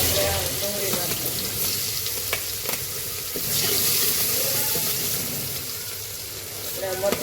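Onion hits a hot pan already holding ginger-chili paste for masala pulao, giving a continuous close sizzle with a few scraping stirs and a surge of hiss partway through.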